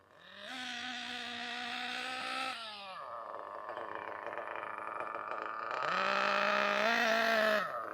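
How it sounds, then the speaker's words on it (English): A Losi 8ight RTR nitro RC engine runs during break-in with a high, buzzing whine that holds steady, dips into a rougher mid-section, then climbs again in short throttle bursts, loud and close. "It's idling really nice right now."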